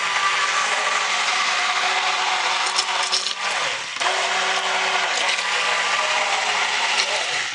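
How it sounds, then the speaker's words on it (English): A stick blender mixes oils for hot-process soap making, running continuously with a steady high whir, dipping briefly in pitch once midway as it churns. "I'm going to take my stick blender, get it in there, and mix it up."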